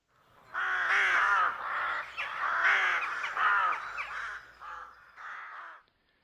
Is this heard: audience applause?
no